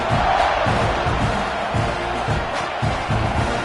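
A stadium crowd at a college football game roars and buzzes loudly and continuously. Rhythmic chanting and stomping pulses run beneath the noise, close and filling.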